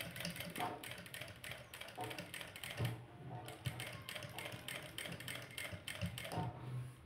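Sewing machine stitching along a blouse edge, a fast, continuous mechanical clatter of needle strokes at low volume, heard close up.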